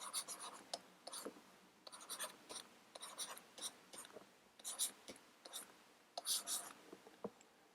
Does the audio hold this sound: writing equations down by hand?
yes